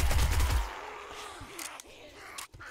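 Rapid bursts of gunfire in the 7 Days to Die zombie survival game, loud and dense in the first half-second, then trailing into scattered fainter shots and rustling.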